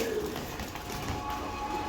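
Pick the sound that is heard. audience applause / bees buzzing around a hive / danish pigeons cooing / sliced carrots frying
danish pigeons cooing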